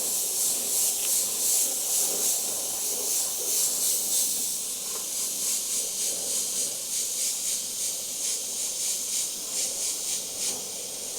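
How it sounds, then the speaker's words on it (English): An airbrush sprays white paint through makeup templates while airbrushing a clown design, giving a steady close hiss that pulses slightly in strength throughout, with no talking. "I'm going to spray white over them now, and that's going to give us our base for the makeup."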